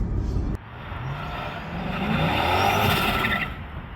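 A supercharged C5 Corvette revs hard on cold pavement during a burnout attempt. After a brief dip, its engine roar climbs and swells, loud and close.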